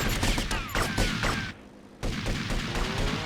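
Gunfire in GTA Vice City: dense, loud volleys of overlapping shots roar for about a second and a half, drop to a brief lull, then resume just as heavily, with no talk.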